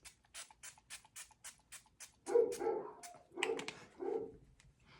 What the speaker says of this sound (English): Oh, the dogs.